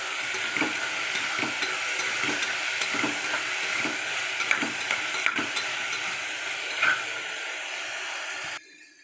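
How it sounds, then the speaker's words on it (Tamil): Vegetables sautéing and being stirred in a pan with salt, a steady close sizzle with frequent scraping stir strokes throughout, stopping abruptly near the end. "வதங்குது"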